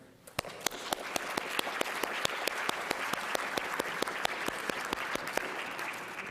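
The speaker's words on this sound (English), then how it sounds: "Applause in absentia" Sustained applause from a crowd, with sharp individual claps standing out over a dense, steady patter of clapping that continues throughout.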